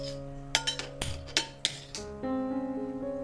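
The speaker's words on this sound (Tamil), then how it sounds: "இப்போ இந்த அடுப்பில் வந்து குழம்புக்கு தான் அந்த பாத்திரத்தை வைக்கிறேன்." A metal cooking pot for kuzhambu curry is set onto a kitchen stove with a quick series of clanks and clinks in the first two seconds, followed by steady tonal background hum.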